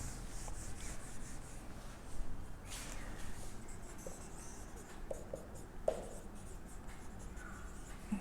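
Chalk or marker scratching and rubbing across a board as a math derivation is written out, steady close strokes with a few sharper taps, no talking.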